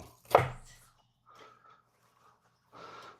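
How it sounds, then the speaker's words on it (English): A knife chops an onion with one sharp, loud strike near the start, followed by a few softer, scattered knife and handling sounds, with no talking. "I chop this onion that we've done a million times"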